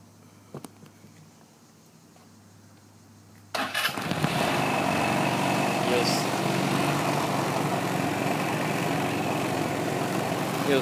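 A 2008 Lance Vintage 150cc scooter sits quietly, gives a click or two, then its engine catches abruptly and settles into a steady, loud, close idle that holds to the end, with a person speaking nearby.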